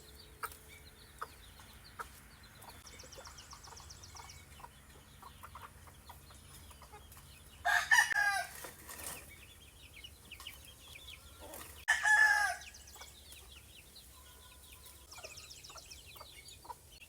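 Gamefowl roosters of roundhead and kelso lines crow in two loud bursts outdoors, with faint scattered clucks and quiet farmyard background between them.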